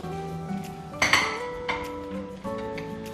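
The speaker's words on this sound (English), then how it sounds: "Now let's go ahead and put it in the oven." A metal pizza pan clanks and rings as it is slid into a home conventional oven, a few sharp metallic knocks and pings over a quiet kitchen background.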